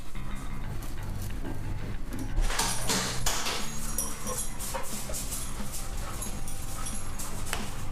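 Dogs whine and whimper in soft, high pitched bursts, mixed with some rustling and a sliding or clattering noise nearby.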